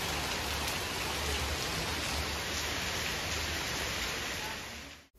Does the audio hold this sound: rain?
yes